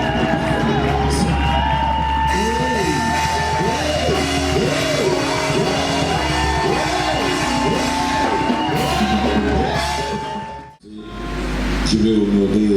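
Congregation at a pastors' and deacons' ordination and consecration service cheering and acclaiming, a dense crowd roar with whoops and shouts over music, loud and continuous before a sudden brief drop and a return.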